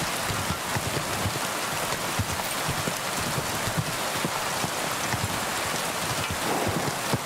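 Steady, dense nighttime rain pours down without a break in the video game Kingdom Come: Deliverance 2, a loud even hiss with no voices.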